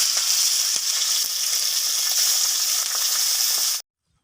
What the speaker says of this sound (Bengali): এই মাছগুলোকে আমি ভেজে নেব।